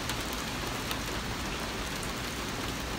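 Hail coming down in Los Angeles, a dense, even patter of pellets striking outdoor surfaces, steady and continuous with no voices.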